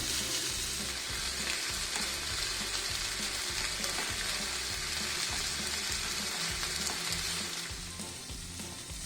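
Fish frying in a pan for meen pollichathu, a steady dense sizzle with crackling oil, loud and close, continuing unbroken and easing slightly at the end.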